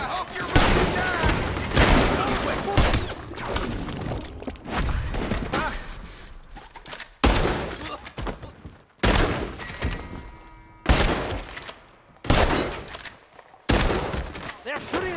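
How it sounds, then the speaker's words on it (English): Gunfire in Red Dead Redemption 2 as enemies open up during a shootout, with repeated sharp volleys and fusillades in bursts separated by short gaps, mixed with shouting voices. "They're shooting right at me!"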